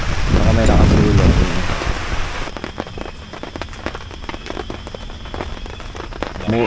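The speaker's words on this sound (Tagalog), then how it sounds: "Ayun, umulan na nga ni." Rain starts falling at a campsite in Cavinti, Laguna, a steady close patter of drops with sharp crackling hits, following a stretch where people talk loudly at the start.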